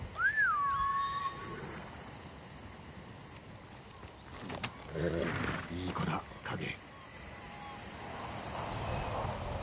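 A horse in the video game Ghost of Tsushima gives a short, high whinny at the start, followed by snorts, shuffling and hoof sounds over a steady outdoor ambience, with a voice talking partway through.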